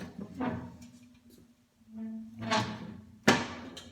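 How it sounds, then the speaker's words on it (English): Metal doors on a New Braunfels Hondo Classic smoker swinging shut, a few separate dull thunks and clanks with quiet pauses between, close and fairly soft. "I don't like the way that the doors close."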